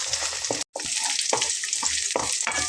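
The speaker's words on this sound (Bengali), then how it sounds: "রসুন আর পেঁয়াজটা একসঙ্গে আগে 10 থেকে 15 মিনিটের মতো আমি ভালো করে ভেজে নেব" Garlic and onions frying together in a pan, a steady close sizzle with a brief dropout and several soft stirring knocks at regular intervals.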